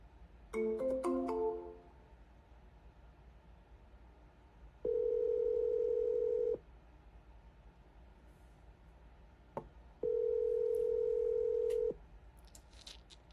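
An outgoing telephone call rings unanswered on a business cold call: two long, steady ringback tones roughly five seconds apart, clear and moderately loud over faint background hiss, following a brief burst of dialing tones at the start.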